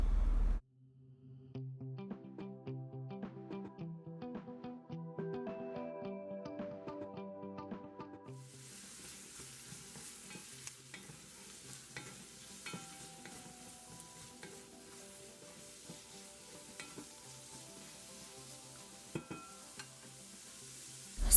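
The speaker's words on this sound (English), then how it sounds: "you want to allow them to saute for about a minute" Onion and garlic sautéing in a pan, with Scotch bonnet pepper, tomato and carrot going in, a soft steady sizzle under clattering utensil stirring, then a broader hiss, fairly faint, with no talk.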